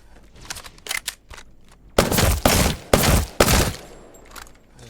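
Bursts of automatic gunfire from guns in the video game Apex Legends, loud and close, with short rattling volleys at first, then heavier sustained bursts separated by brief pauses.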